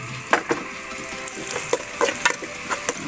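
Longganisa sausage pieces sizzle and fry in a pan, a steady crackling hiss broken by sharp spatters and pops scattered throughout, with no talking.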